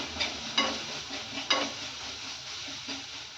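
A paste sizzles in oil for an aloo paratha filling, its soft steady frying broken by a few sharp scrape-and-stir strokes about once a second, close and alone without talk.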